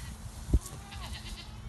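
A Kiko goat on a pasture gives a short, faint bleat after a soft knock, the wavering cry fading out over the quiet outdoor background.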